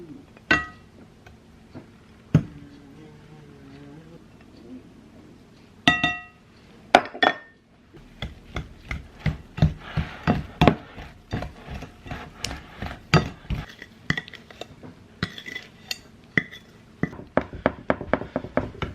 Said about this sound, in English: I'm going to stir up the dry ingredients, then add the butter and get this pressed into a 9x13 glass Pyrex dish.